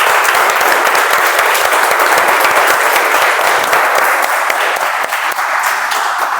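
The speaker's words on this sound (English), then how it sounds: "Let's give another round of applause to our speakers." Audience at a Toastmasters club meeting gives a loud, sustained round of applause, dense even clapping filling the room without pause and no voices over it.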